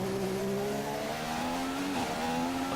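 McLaren F1 car in the F1 2015 racing game, the engine holding a steady high whine that climbs slowly, dips briefly at a gear change and rises again, loud and close, with no talk.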